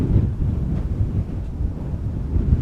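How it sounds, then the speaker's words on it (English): Steady wind at Amsterdam Schiphol Airport buffets the microphone with a low, rumbling roar that swells and dips throughout. "Over here it is a bit windy."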